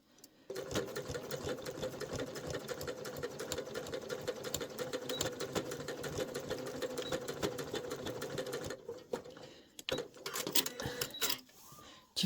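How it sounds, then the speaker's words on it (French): A domestic sewing machine stitches along the edge of a bag, a rapid close mechanical clatter running steadily for several seconds, then a brief pause and a few short bursts of stitching. "On coud tout le long à 5 mm du bord."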